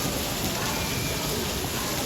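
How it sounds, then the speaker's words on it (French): Rain falls steadily in Naples, a dense, even hiss close by and fairly loud, unbroken throughout. "La pluie."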